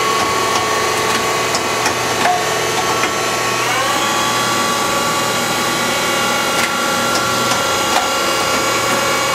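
A Citizen F16 CNC Swiss lathe spindle runs at about 3,000 RPM, a loud steady mechanical whine with layered tonal hum. A pitch rise shifts the tones partway through, and the drone continues unbroken.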